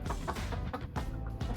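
Chickens cluck softly in a roomy backyard chicken run of about 15 by 9 feet, giving a few short, close, irregular clucks with no voices present.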